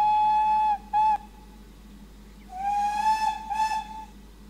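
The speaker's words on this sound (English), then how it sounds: "Press B, you get a few different whistles." A steam locomotive whistle blows in a train simulator game: a loud steady tone, a brief second toot, then after a pause a longer, wavering whistle, with no talking.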